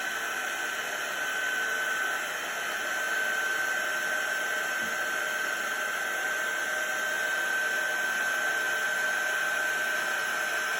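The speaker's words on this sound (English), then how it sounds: "So I'm going to use my heat gun." A heat gun runs steadily throughout, melting embossing powder on a stamped summer flower image for a handmade card; a loud, constant hot-air blower roar with a faint whine stays nearly even from start to finish, with no voices.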